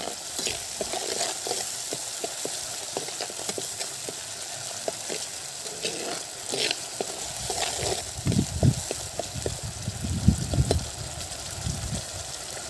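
Garlic frying in sesame oil for a garlic pickle, a steady close sizzle with scattered stirring scrapes that grow louder and busier toward the end.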